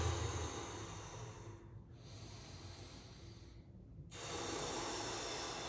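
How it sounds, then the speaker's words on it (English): Slow, audible breaths during a hamstring exercise with heel raises and ankle pumps, two long inhales and exhales at close range, soft and alone with no talk. "and still breathing."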